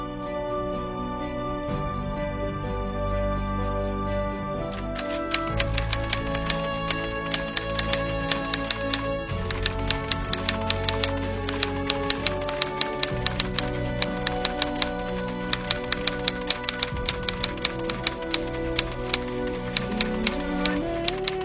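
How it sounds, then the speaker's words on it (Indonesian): A typewriter types out the Indonesian independence proclamation text in a student short film, with quiet music at first and then steady, rapid key clacks and occasional carriage dings running over the music for the rest of the passage. "Tolong kau ketik teks proklamasi ini"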